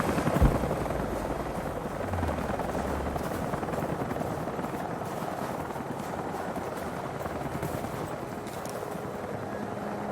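Helicopters in the video game Rise of the Tomb Raider, a steady dense rotor roar filling the whole span with a muffled rhythmic chop, loud and constant, alone without talk.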